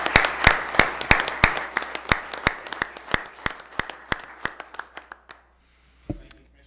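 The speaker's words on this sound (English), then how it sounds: "one more applause" Audience applause fills a county commission meeting in Washington County, a dense patter with a steady, loud rhythmic clap beating through it, fading out after about five seconds before a single soft thump.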